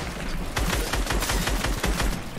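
Rapid burst of video-game gunfire in a battle royale match, with double shotgun blasts and quick sharp shots in a dense, fast volley, loud and close with no talk.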